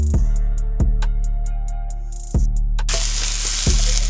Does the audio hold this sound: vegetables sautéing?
yes